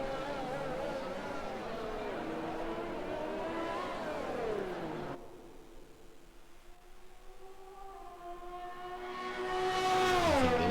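A Ferrari race car in a sim racing game heads onto the Red Bull Ring circuit, its engine whining up through rising gear pitches, dropping on a shift, then revving hard again, loud and close.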